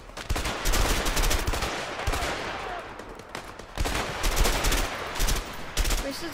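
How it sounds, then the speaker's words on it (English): Rapid bursts of gunfire in the co-op video game A Way Out, loud and sharp, arriving in several clusters of shots with brief pauses between them. "This is a headshot kill."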